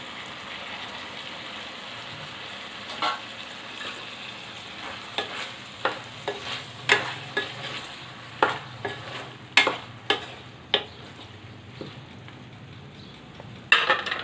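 Tomato pieces cooking over a medium flame are stirred in a pan: a soft continuous sizzle broken by a series of sharp spoon scrapes and clicks that come irregularly, close and clear.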